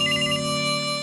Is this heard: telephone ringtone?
yes